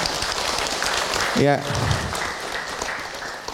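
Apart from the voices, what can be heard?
audience applause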